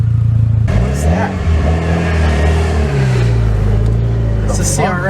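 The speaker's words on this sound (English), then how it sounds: "It's a CRX." Honda CRX engine revving and driving past, a loud close engine roar with rising and falling pitch over several seconds, with people talking over it.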